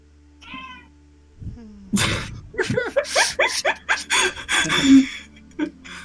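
A cat meows several times in a row, with varied, close, fairly loud calls and a few short gasping or breathy sounds mixed in. No one speaks.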